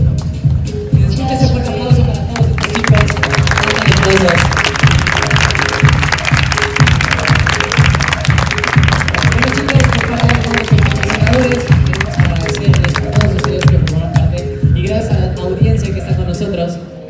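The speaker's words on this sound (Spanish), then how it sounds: "Un último aplauso para ellos." Audience applause at a charity fashion festival: steady, dense clapping from a crowd that holds loud and continuous throughout, with no talk on top.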